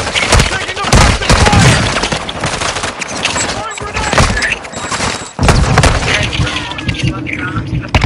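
Gunfire from hostiles in the video game Call of Duty Warzone, rapid loud bursts of automatic fire and booming shots in quick succession, with game voices speaking over the shooting.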